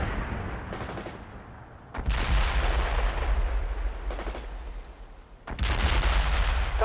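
Heavy gunfire and rocket launches in the Soviet campaign of the strategy video game World in Conflict, with dense rattling bursts that swell loudly twice, separated by quieter stretches of distant shooting.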